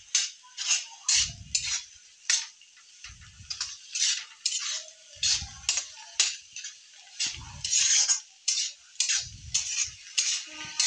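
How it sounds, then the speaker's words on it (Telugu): Scrambled egg stirred in a pan over high heat, a utensil scraping and clinking against the metal in steady repeated strokes with low thumps, close and fairly quiet, no voices. "ఇది 1 నిమిషం పాటు మగ్గించుకొని కలుపుకుంటూ ఉండాలి"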